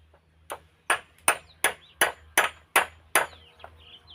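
Nails being pulled out of wood with a tool, heard as about nine sharp metallic strikes at an even, steady pace, close and fairly loud with a faint hum underneath.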